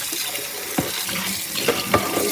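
Kitchen tap running while dishes are washed: a steady hiss of flowing water with a few soft clinks and splashes, no talking.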